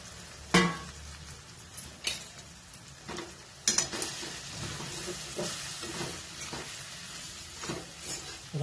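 Crushed leftover chapati with turmeric being stirred and fried in a pan for chivda, with soft sizzling and several distinct scraping clacks of a spoon against the pan at irregular intervals, close and moderately quiet.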